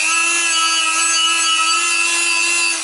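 Sandpaper rubs steadily against the holes of a car brake disc, making a continuous close, harsh abrasive hiss with a faint metallic ringing tone underneath.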